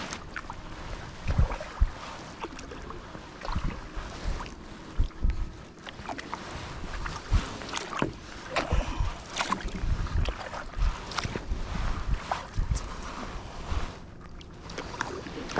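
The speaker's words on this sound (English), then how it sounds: "And then knelt down and paddled out." A paddleboard being paddled out across a lake, with repeated soft water splashes and strokes under steady wind noise, fairly close and continuous throughout.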